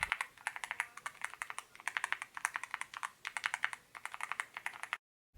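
Fast, rhythmic keystrokes come from a Yunzii AL66 65% mechanical keyboard with stock milk switches, crisp and close-miked with no voices, before the sound cuts to silence at the end.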